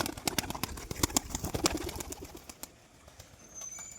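A performing tumbler pigeon claps its wings in display, a rapid series of sharp cracking slaps up close that fades into quieter flapping and room noise.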